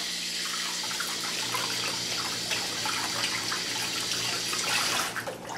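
Tap water runs steadily into a kitchen sink while hands are washed during bread making. A broad, even hiss goes on throughout, with splashing that swells briefly near the end before dropping away.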